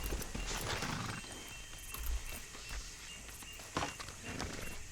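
Horse hooves clip-clop in the video game Red Dead Redemption 2, a steady walking rhythm of close, distinct hoof strikes with a brief neigh, and no talk over it.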